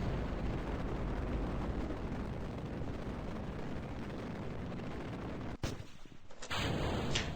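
A rocket engine fires in Kerbal Space Program RP-0 on a lunar attempt, a loud, dense, continuous roar that holds for several seconds, then cuts off abruptly before the noise briefly returns.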